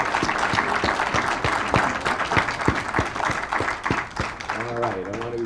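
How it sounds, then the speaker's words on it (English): Audience applause for entrepreneurial business pitch competition finalists at an event in Savannah, a dense, sustained round of clapping from a crowd in a hall, with a voice speaking over the end. "let's have a big round of applause for all our finalists"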